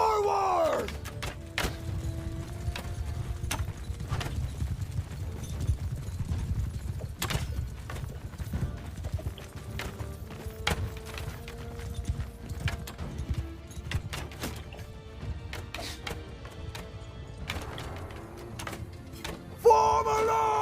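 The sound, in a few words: cavalry horses galloping in a charge, Mount and Blade II video game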